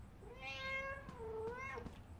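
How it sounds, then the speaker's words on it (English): Cat in the game Five Nights at Freddy's Into the Pit: two drawn-out meows, the second bending down in pitch and then rising, close and fairly quiet against faint background noise. "Can I pet you, cat?"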